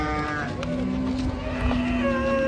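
A cow lows with a drawn-out, steady tonal moo in a busy cattle market, fairly close and loud over a constant crowd and background rumble, with another faint bovine call overlapping.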